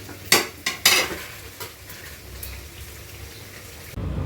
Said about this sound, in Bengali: আমি এখানে ঝোলের জন্য পানিটা দিয়ে দিই।